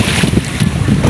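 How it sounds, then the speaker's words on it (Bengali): Strong wind buffets the microphone beside a river, with low rumbling gusts and water sloshing as waves hit the bank, steady and loud for about a second with no voices. "অনেক বাতাস আর ঢেউ হচ্ছে,"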